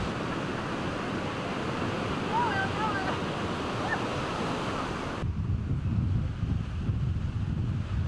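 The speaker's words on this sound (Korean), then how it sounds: "겨울에도 파도를 타려는 사람들로 붐비는 케이프타운 인근의 해변" Surf rolling onto a crowded winter beach near Cape Town, a constant broad wash of waves with wind buffeting the microphone.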